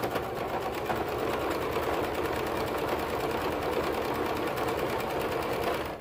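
A sewing machine stitches a stretch fabric seam for high-waisted bummies, its needle chattering in a fast, steady mechanical rhythm, close and continuous for several seconds before easing off at the end.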